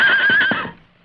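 A horse whinnies loudly and close at a hitch rail outside a general store, one long wavering neigh that fades out over about a second.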